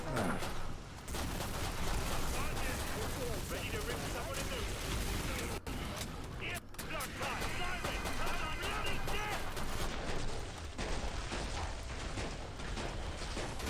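Continuous gunfire from the video game Killing Floor 2 rattles on in dense, rapid bursts mixed with heavier blasts, loud and steady throughout with talking underneath.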